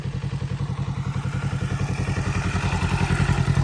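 A motorcycle engine pulses in a steady, fast throbbing rhythm close by, accelerating and holding speed during riding exam maneuvers.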